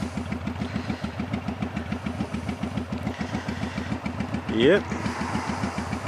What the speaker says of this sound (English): What a beautiful day to be out riding around on the bike.